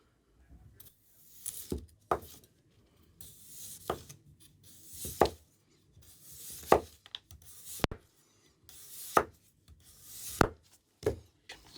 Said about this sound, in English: Okay, so we are cutting the potato, no longer splitting.